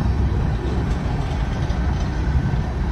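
A low, continuous rumble of a passing CSX freight train in Gwinnett County, Georgia, with steady rolling noise, moderately loud and unbroken, no voices.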